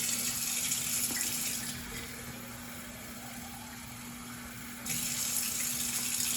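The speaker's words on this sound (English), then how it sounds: "we're going to fill our bottle up to the shoulder" Tap water runs into a sample bottle during well water sampling, a steady hissing stream that softens and deepens in the middle as the bottle fills, then returns to a brighter rush near the end, with a constant low hum beneath.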